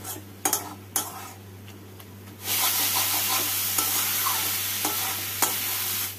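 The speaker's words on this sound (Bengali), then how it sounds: "সবগুলোকে দিয়ে কিমাটাকে ভালোভাবে কষিয়ে নেব" Mutton mince sautéing with turmeric, cumin and garam masala powders, a few clinks of a utensil against the pan, then a loud steady sizzle with occasional stirring taps.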